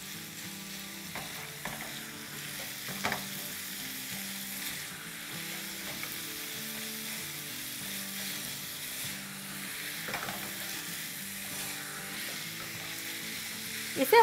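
Meat filling for lachha paratha kababs frying in a pan, a long, even close-up sizzle with occasional soft scrapes of stirring and a louder clatter at the very end, no voices.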